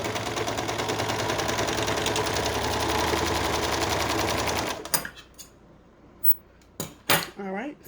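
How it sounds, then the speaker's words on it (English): A serger sewing machine stitching side seams on bell-bottom pants runs at high speed in a loud, steady, rapid whir, then stops abruptly, followed by a few clunks and handling noises. "if you've never used a serger, just know these things are fast. They are so fast."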